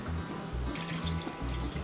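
Water running from a tap into a cooking pot holding pork leg, a steady close splashing flow with low pulsing gurgles, no talk over it.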